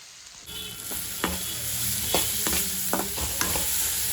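Fried rice stir-fried in a pan with leftover rice, a steady sizzle under rhythmic spatula scrapes and clinks, close and alone without talk.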